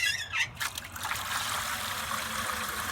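A small amount of water sloshes and trickles inside a swinging bucket, faint liquid splashes early on settling into a soft, continuous watery wash.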